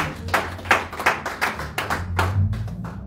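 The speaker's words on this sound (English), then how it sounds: "Can we clap our hand for the Most High God once more?" A church congregation claps their hands in a loose, uneven rhythm of sharp slaps, close and moderately loud, with a low murmur beneath.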